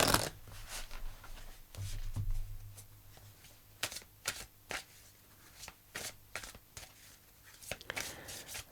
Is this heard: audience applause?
no